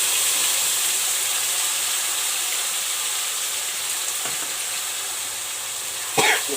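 Ginger, green chili and garlic paste hisses and sizzles steadily in hot oil with bay leaves, dried red chili and cumin, a close, continuous frying crackle ending in a brief sharp spatter.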